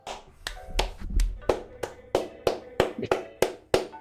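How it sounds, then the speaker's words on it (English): Sharp, close hand claps repeat at a steady pace, about a dozen distinct slaps with brief quiet gaps between them. "Yeah, I'm clapping."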